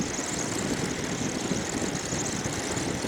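A Suzuki DR650 dual-sport motorcycle cruising in fifth gear on the street, a steady droning engine note with wind rush, continuous and close, with no talking.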